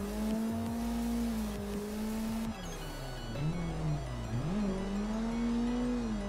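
A car engine in a wheel-driven racing video game holds a steady tone, then dips and climbs again through a couple of gear changes, with a faint tire squeal in the background.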